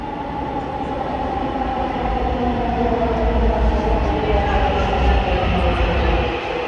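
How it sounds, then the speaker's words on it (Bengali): A Dhaka metro rail train arrives with a loud, steady rumble and rolling wheel noise that stays close and continuous throughout, with no speech. "তারপরে দেখলাম মেট্রো রেলটি আসছে।"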